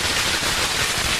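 A long string of Diwali firecrackers bursting outdoors, a dense, loud, continuous crackling rattle with no pauses and no talk.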